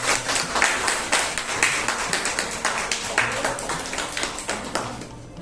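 An audience gives a prize winner at an award ceremony a round of loud, fast hand clapping. The clapping is dense and sustained, then thins out toward the end.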